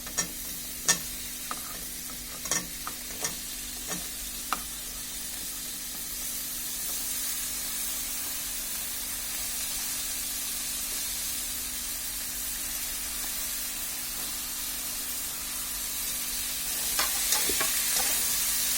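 Carrots, beans, cauliflower and cabbage fry together in a pot with a steady, loud sizzle. Sharp scrapes and knocks of stirring come early and again near the end.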